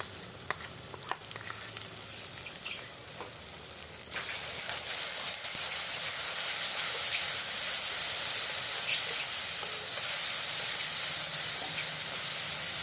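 Chili powder and mustard paste hitting a hot pan: a hissing sizzle that swells sharply partway through and then holds loud and steady, with a few faint clinks early on.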